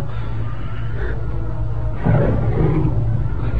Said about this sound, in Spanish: fue como el rugido de un tigre